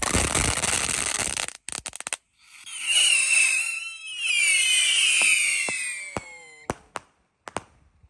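Jumbo Roman candle fireworks at a New Year's Eve celebration fire off loudly, with a hissing burst followed by sharp pops and long whistling, crackling trails, then scattered distant bangs.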